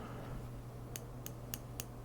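An Acco keyboard switch puller gives four crisp, sharp clicks at a steady, slightly uneven pace, close and fairly quiet against a low steady hum.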